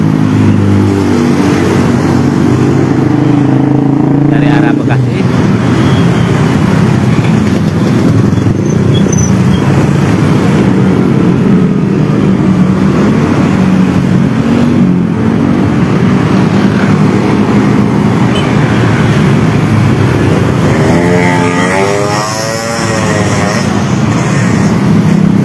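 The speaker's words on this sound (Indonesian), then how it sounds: "Dan dapat kita lihat hampir ribuan kendaraan sudah mulai melintasi" Dense stream of motorcycles carrying homebound holiday travellers past the Tanjungpura post in Karawang, a loud continuous engine roar with passing revs, a louder rising whine near the end.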